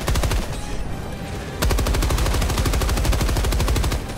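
Rapid machine-gun bursts from the video game Helldivers, with loud, dense automatic fire that runs steadily for about four seconds and turns heavier after a brief lull near the start.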